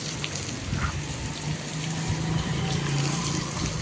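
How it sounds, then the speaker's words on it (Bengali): Heavy rain at Chandipur sea beach in Odisha beats down as a loud, continuous wash of patter and hiss, with a faint low hum underneath and no clear talk. "কি জোর বৃষ্টি"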